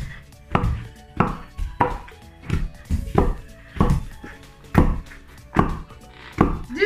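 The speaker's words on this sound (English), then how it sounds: "I'm pounding the yam, and I have to pound it until there's no lumps and the yam is smooth" Yam is pounded by hand with a pestle in a mortar, a steady series of about a dozen heavy, close thuds in even rhythm, with no talking.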